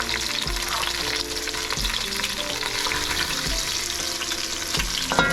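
Food for the Bengali dish muri ghonto frying in hot oil until crispy, a dense steady sizzle with a few soft knocks of stirring, close and continuous.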